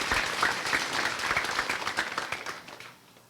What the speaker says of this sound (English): One more round of applause for Leah Freeman and Miss Amy Leach.